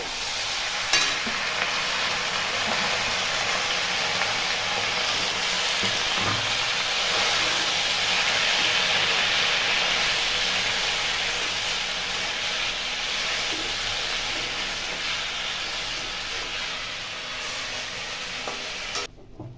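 Chopped spinach for palak paneer sizzles steadily in a hot frying pan, a broad, even hiss that swells and then slowly settles, with occasional stirring clinks and no talking.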